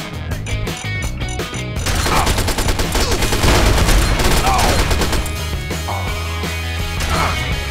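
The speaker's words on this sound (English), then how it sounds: "Combat shotgun is too crazy." Combat shotgun blasts boom repeatedly in Fallout 3 in the sewers beneath Fort Bannister, loud close shots layered over dense game music and clatter, with a brief quiet-edged opening before the firing thickens.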